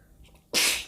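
A single sharp sneeze bursts out close by after a short quiet intake of breath, loud and abrupt before trailing off.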